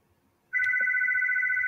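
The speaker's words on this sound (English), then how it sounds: "And excuse my phone." A telephone starts ringing abruptly after a short quiet moment, a loud, steady electronic two-tone ring that carries on unbroken to the end.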